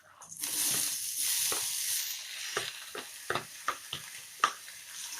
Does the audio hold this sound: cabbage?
yes